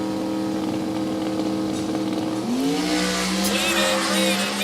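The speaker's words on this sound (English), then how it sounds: "Another 6-second pass on the way, 652 at 212 miles an hour for Brett LaSalla." A drag racing car launches hard down the strip at Orlando Speed World during Sick Week 2023, a loud sustained engine roar rising sharply in pitch midway as it accelerates away.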